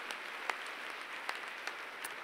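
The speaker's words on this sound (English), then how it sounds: "a mighty hand clap to Jesus." Congregation clapping at a church service, a steady wash of many hands with a few sharper claps standing out, fairly faint and distant, with no talk over it.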